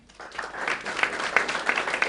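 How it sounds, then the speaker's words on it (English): Brief applause from a crowd at an announcement of a new sports team owner, a short burst of scattered clapping that builds quickly and stays moderately loud. "Wait for applause, hold for"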